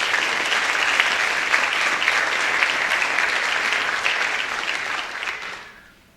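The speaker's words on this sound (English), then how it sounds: "Please give them a round of applause." Sustained applause from an audience at a high school athletic awards ceremony, steady clapping that fills the room for about five seconds before fading out.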